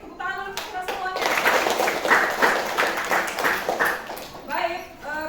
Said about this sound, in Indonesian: Oke, tepuk tangan dulu kita semuanya.